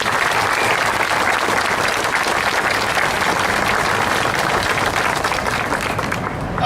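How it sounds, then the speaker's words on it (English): Sustained applause from a crowd honoring a contingent of Navy sailors at the USS Cincinnati welcoming ceremony, dense steady clapping that holds loud throughout before easing slightly at the end, no talking. "A round of applause for them."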